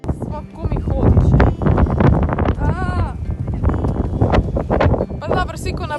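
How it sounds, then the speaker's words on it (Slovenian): Strong wind blowing at the Cliffs of Moher in Ireland, roaring loudly across the microphone in continuous gusts, with someone talking over it. "razen tega, da je ful pihalo"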